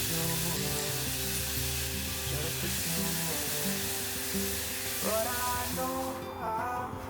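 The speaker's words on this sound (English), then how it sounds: "Saute everything well and then add the prepared onion and garlic paste." Onion and garlic paste sautéing in a pan with seeds, ajwain, hing and kasuri methi gives a close, continuous, even sizzle throughout, with faint stirring scrapes and no voices.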